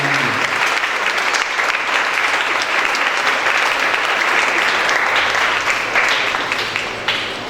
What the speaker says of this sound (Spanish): ¿Por qué no le damos un aplauso a Cristo Jesús por ese amor tan grande?